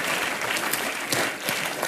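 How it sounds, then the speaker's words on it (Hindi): Studio audience on the Comedy Nights With Kapil comedy show applauding the Happy New Year star cast. The clapping is dense and steady, fairly close and moderately loud, with no speech. "प्लीज जोरदार तालियां सारी स्टार कास्ट के लिए।"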